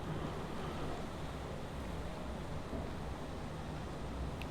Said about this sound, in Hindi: गाइस यार बारिश चालू हो गया है।